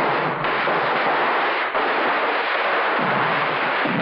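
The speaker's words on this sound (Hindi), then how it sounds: "ऐसी आतिशबाजी हो कि जमाना देखता रह जाए" Fireworks go off during a festive celebration scene at a mansion in a Hindi film, a dense, unbroken roar of crackling bursts that stays loud and close throughout, with no talking.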